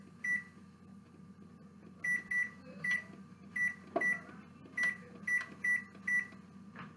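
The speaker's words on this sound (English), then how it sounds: "Put the timer for 15 minutes." An oven timer beeps repeatedly as it is set, short bright electronic beeps in irregular bursts over a quiet kitchen hum.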